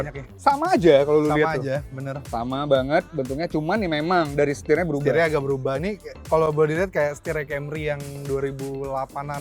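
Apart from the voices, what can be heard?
No everyday noises stand out.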